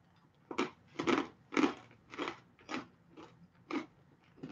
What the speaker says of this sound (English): And if you like to crunch things, they're really satisfying. I'm sure you guys can hear that.